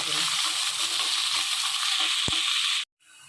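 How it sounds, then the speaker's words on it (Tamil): Onions sautéing in hot oil for vegetable gilli biryani give a loud, steady close-up sizzle with a brief stir knock, cutting off abruptly near the end. "இது மாதிரி வெங்காயம் நல்லா செவந்து வரணும்"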